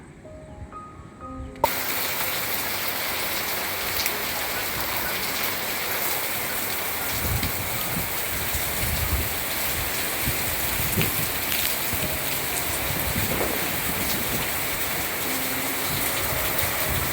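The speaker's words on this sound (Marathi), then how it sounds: "वारा पण आहे पाऊस पण आहे" Steady rain pouring down on the coast with a broad continuous hiss, wind gusting in from the sea underneath, constant and fairly loud throughout after a brief quiet start.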